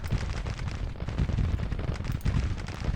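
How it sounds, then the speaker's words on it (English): Artillery and musket fire rumble continuously in the Grand Tactician Civil War strategy game, a dense, steady battlefield roar of overlapping booms with no clear breaks. "It's that darn artillery right in the center"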